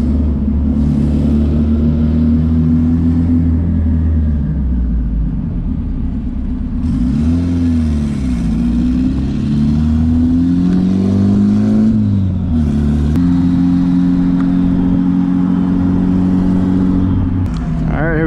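A turbocharged Honda D16 engine in a car pulls hard through the gears, its loud engine note climbing and shifting several times across a steady, close, continuous run.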